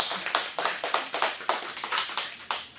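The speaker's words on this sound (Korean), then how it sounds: "박수 한번 주세요" A small audience at a meditation lecture clapping in a quick, even rhythm of distinct claps, fairly close and alone without talk.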